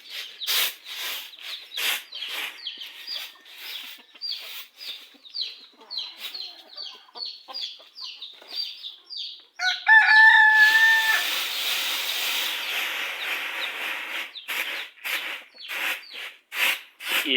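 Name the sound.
chickens clucking and rooster crowing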